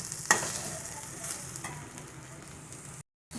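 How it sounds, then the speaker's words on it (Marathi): Steamed shepu (dill) greens being stir-fried in an uncovered kadhai, with a sharp clang of the spatula at the start, then steady scraping and soft sizzling throughout, close and moderately loud, no talk. "आणि आता ह्याला परतून घेऊया."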